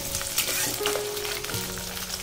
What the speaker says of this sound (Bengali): আলুগুলোকে আমি ভেজে নেব।